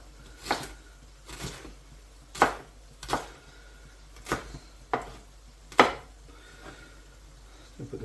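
A knife cuts peppers into long thin strips on a board, about eight crisp separate chops at an uneven, unhurried pace, close and clear over a quiet kitchen background.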